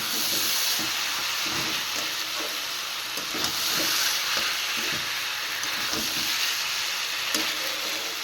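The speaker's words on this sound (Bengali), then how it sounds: "এবার শাকগুলোর সাথে একটু কষিয়ে নেব মশলাটা দিয়ে।" Leafy greens sautéed with spice paste in a pan, a steady hissing sizzle with intermittent stirring clatter and scrapes at a moderate level throughout.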